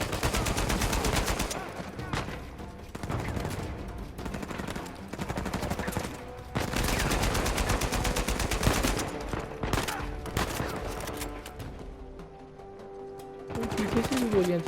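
Gunfire rattles through an Uncharted 4: A Thief's End firefight, with bursts of rapid automatic shots and single cracks that come and go over about fifteen seconds amid game sounds, with a player's voice at times.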